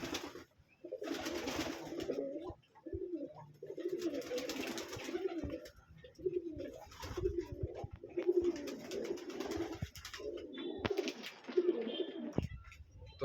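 Racer pigeons coo repeatedly in deep, rolling phrases in a loft, several birds overlapping close by with brief pauses between bouts.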